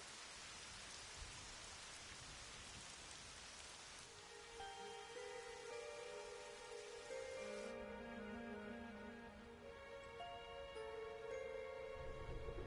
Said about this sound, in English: Oh bloody hell. There's rain.